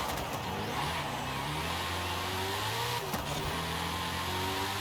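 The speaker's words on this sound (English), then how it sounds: "I'll drive it just the way I drive pretty much any other car" Car engine in Forza Horizon 5 revving and holding a steady droning pitch, with rising and falling tones from gear changes and a brief burst of extra noise midway, loud and close with no voices.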